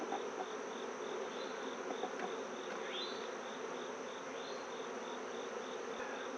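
Honeybees buzzing around an opened hive during an inspection, a faint, steady hum filling the background with no voices.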